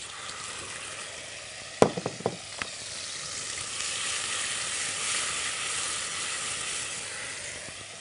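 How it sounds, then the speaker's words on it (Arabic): Onions and butter frying in a pan: a steady sizzling hiss runs throughout, with a few sharp utensil clinks near the start. "كده انزل بالبصل والزبده كده"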